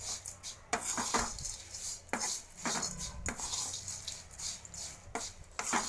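Poha being mixed with spices in a pan, with repeated metallic scrapes and clinks of a utensil against the pan, close and clear, no talking.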